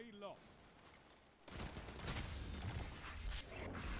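Bursts of Null Calamity auto rifle fire in an online shooter match, a quiet stretch giving way to loud, dense rapid shots and mechanical clatter, with a player's voice talking underneath.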